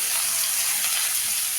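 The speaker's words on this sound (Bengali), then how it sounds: "এখন আমি সব সবজিগুলো একসাথে ঢেলে দিলাম।" Mixed vegetables fry in hot oil tempered with nigella seeds, giving a dense, even sizzle and hiss that holds steady throughout with no talk.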